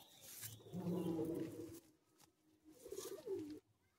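Pigeons cooing close by in two throaty bursts separated by a short quiet gap.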